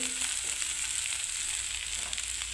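Boiled beans frying in a pan with the gas flame turned down, giving a steady, even sizzle with faint crackles throughout and no voices.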